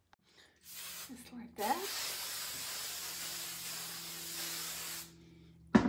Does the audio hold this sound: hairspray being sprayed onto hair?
yes